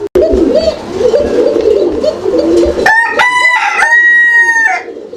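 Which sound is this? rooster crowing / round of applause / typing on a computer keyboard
rooster crowing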